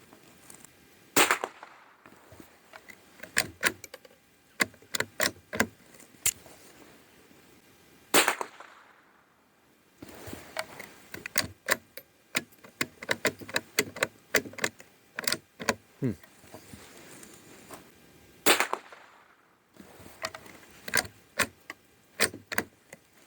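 A Norinco JW-15 bolt-action .22 rifle fires a series of sharp, distant cracks outdoors, the shots spaced irregularly with bolt clicks and handling clatter between groups.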